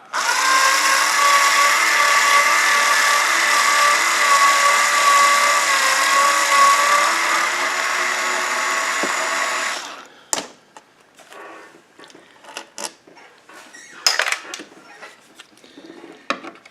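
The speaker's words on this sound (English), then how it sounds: "Power tools. I love power tools." A power tool whines at a steady, high-pitched drone for about ten seconds while a Blaupunkt Florenz radio chassis is removed, then cuts off, leaving scattered clicks and clatter of handling parts.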